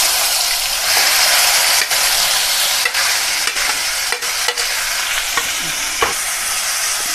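Ground onion paste with cumin fries in hot oil on low flame for a raw banana sabzi, a loud, steady sizzle close by, broken by frequent scraping clinks of a spoon stirring the pan.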